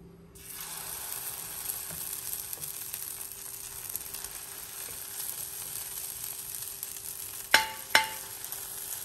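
Oil sizzling on a hot pan for uttapam, a steady, fairly quiet hiss that starts suddenly, with two sharp clinks near the end.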